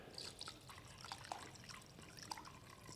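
Solvent such as mineral spirits is poured into a container in a faint, quiet trickle, with soft drips and small splashes scattered through a few seconds.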